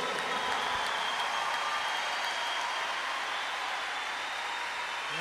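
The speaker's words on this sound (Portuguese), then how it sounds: "Give him a hand." A large crowd at a live concert in Porto Alegre, Brazil claps in a steady, wash-like applause that holds at an even level throughout, distant and diffuse.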